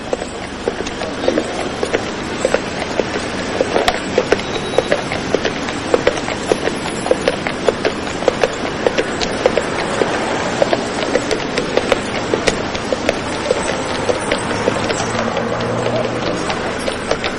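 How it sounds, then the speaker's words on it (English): Dray horses pulling beer carts through city streets, with a dense, steady stream of hoof clip-clops and rolling cart rumble throughout, close and loud, without talk. "these horses do a very useful job, and, of course, the tourists like to see them"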